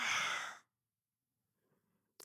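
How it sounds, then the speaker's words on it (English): A single deep breath pushed out during a yoga breathing exercise, a loud airy exhale lasting about half a second before silence. "Exhale out."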